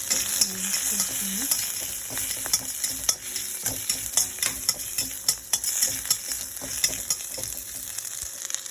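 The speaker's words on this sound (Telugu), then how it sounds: "బాగా వేగాక కరివేపాకు, చిల్లీ ఫ్లేక్స్, కరివేపాకు వేసాను నేను." Curry leaves and chilli flakes fry in a pan with a continuous close sizzle, broken by repeated scraping stirs throughout.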